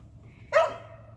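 A puppy on a homestead gives a single short, sharp bark over quiet background hum, fairly close and brief.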